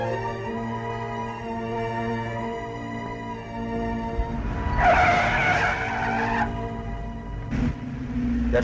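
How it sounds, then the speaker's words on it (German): A 1940s sports car skids into an intersection, a long shrill tire squeal rising over a steady engine drone, followed by a shorter screech near the end. "Der Sportwagen ist unachtsam in die Kreuzung gefahren."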